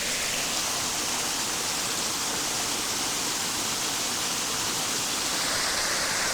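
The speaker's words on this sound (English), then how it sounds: "water falls off of this little ledge down here" A small waterfall pours off a little ledge in a secluded natural spot, making a continuous, dense rushing hiss of falling water heard up close and steady throughout.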